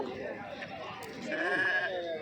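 Sheep bleat amid a busy crowd at a weekly livestock market in Galiveedu, a drawn-out bleat rising near the end over murmuring voices.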